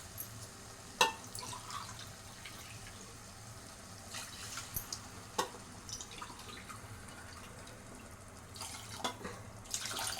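Mutton cooking water is poured into a biryani pot, a soft, steady trickle and splash with scattered drips and clinks, fairly quiet and close with no talking.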